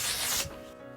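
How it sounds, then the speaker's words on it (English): A brief, breathy spritz of fine mist from a waterproof makeup setting spray sprays for under half a second, then fades into quiet hiss. "I'm going to be using my waterproof One Size setting spray"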